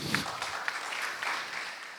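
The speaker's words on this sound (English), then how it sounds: "So a round of applause for Kolanda, please." Applause from a seated conference audience after a panel speaker's session on surveillance, a steady patter of hand claps sustained throughout at moderate level, fairly distant and diffuse.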